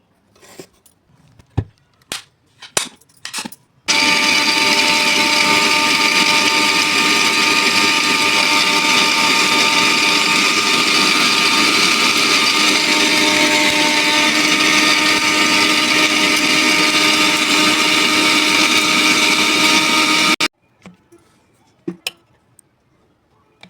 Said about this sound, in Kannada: ಮಿಕ್ಸಿ ಜಾರಿಗೆ ಹಾಕ್ಕೊಂಡೆ ಇದನ್ನ ಪೌಡರ್ ಮಾಡ್ಕೋತೀನಿ